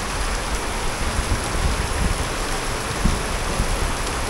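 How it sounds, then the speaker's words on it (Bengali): Light drizzle falls over a flooded street, a steady close wash of fine droplets on water and hard surfaces with no pauses and no voices. "এখনও হালকা গুড়ি গুড়ি বৃষ্টি পড়তেছে"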